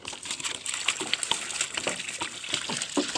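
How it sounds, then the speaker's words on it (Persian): Water is poured at the base of a tree, splashing and gushing steadily for a few seconds, close by, with small clinks and drips mixed in and no talking. "آب که دارم میدم"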